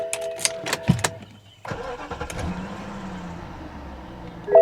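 Smoking hooptie auction car cranking and catching, a short burst of starter whirring and clatter before the engine fires and settles into a steady rumbling idle nearby.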